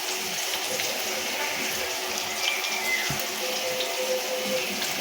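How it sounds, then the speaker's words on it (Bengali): Kewra water is poured into a biryani spice mixture: a steady liquid hiss runs for several seconds over faint room noise, with no one talking. "একটু কেওড়া জল দিলাম"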